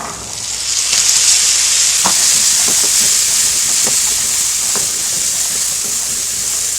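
Boiled sundal is added to sautéed onions in a pan, giving a loud, continuous sizzle and hiss. Soft scraping stirring strokes sit beneath it, heard close up with no talk.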